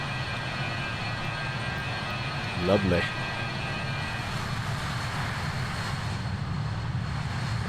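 Engine drone of a BAe 146 jetliner in a flight simulator, a steady low hum turned down to a moderate level, with a brief voice speaking over it partway through.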